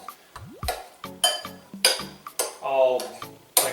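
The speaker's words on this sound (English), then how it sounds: "Just kind of slash it into pieces. Because I want chunks." Knife cutting a ripe avocado into chunks for guacamole in a bowl: a quick series of close clinks, taps and scrapes of metal against dish, irregular in rhythm, moderately loud with no talk.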